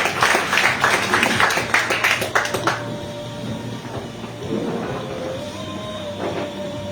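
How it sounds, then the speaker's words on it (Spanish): A church congregation gives a loud round of applause to God after worship, a burst of clapping that thins out after about three seconds into quieter room sound with scattered voices. "Bríndele un fuerte aplauso a Dios."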